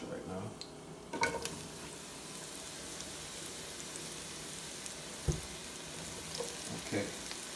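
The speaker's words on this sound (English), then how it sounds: "to more or less fry the onion as opposed to boil the onion" Onions frying in a hot pan, a soft steady sizzle with a few brief clinks and scrapes, fairly quiet and with no voices.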